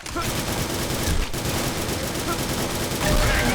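Gunfire in the shooter game Phantomers Online: loud, sustained rapid automatic fire crackling continuously, with overlapping shots and a brief dip mid-burst, a voice occasionally audible under it.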